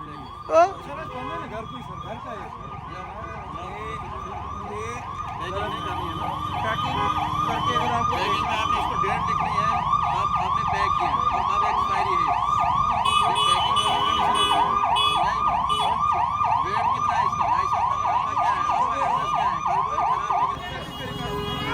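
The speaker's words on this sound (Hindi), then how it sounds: "लोग एम्बुलेंस को भी नहीं रास्ता छोड़ते।" An ambulance siren wails in a steady, rapid warble through street traffic in Kishtwar's main market, rising to a loud, continuous level after a few seconds and holding over a low rumble of road noise.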